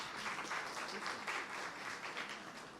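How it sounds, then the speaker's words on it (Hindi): Audience applause at a spiritual talk, a steady wash of clapping that holds fairly even throughout with no voices on top. "तालियां तो बजाओ ना भाई।"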